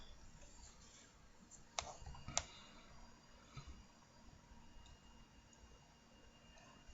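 A computer mouse clicks twice in quick succession while someone navigates a school library catalog website, sharp and close against a faint background hiss, followed by a few softer clicks.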